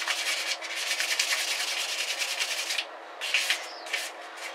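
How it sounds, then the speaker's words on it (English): Sandpaper rubbed by hand over a bicycle bar end being prepared for custom painting, giving rapid, close, scratchy back-and-forth strokes that run steadily before breaking into a few separate swipes. "you can just roll up your sandpaper, go inside"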